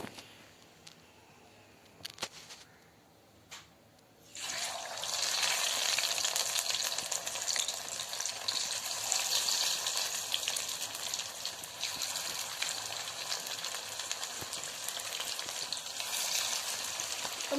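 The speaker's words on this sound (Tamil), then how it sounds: "இப்போ இதை நம்ம வந்து டீப் ஃப்ரை பண்ணி எடுத்துடலாம்" After a few quiet seconds with small clicks, marinated chicken lollipops hit hot oil and a loud, steady deep-frying sizzle carries on to the end.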